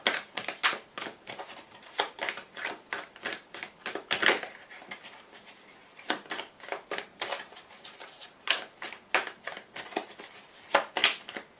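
Oracle cards shuffled and drawn from the blue deck in a quiet room, a steady run of crisp riffling flicks and slaps repeating for several seconds, close and clear with no talking.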